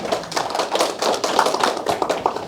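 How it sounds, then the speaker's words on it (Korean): A Buddhist dharma-talk audience claps together in a sustained round of hand clapping, dense and steady for a few seconds with no talk over it. "다 같이 박수 한번 쳐주세요"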